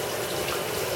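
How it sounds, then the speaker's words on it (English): Tap water runs steadily into a kitchen sink as hands are washed between cooking steps, a close, continuous splashing rush. "I'm washing my hands over here in between"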